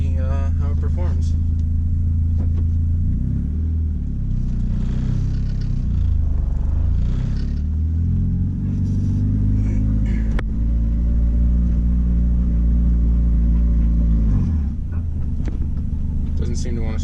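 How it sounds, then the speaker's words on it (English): A turbocharged Honda Accord CD5 on a test drive gives a loud, steady engine rumble from inside the car, with the revs rising and falling as it drives and a voice talking over it. "Alright, seems like we might be ready to take this thing for a little test drive"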